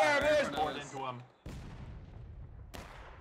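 Musket volleys in the Civil War shooter War of Rights on the Piper Farm map, two sharp distant-sounding reports with rolling echo tails, following a burst of voice.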